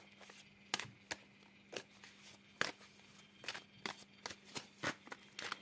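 Tarot cards being shuffled and cut by hand, a quiet run of soft riffling slaps and sharp card snaps in an irregular rhythm, close and alone without talk.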